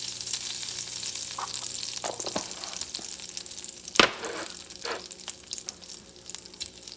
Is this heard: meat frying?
yes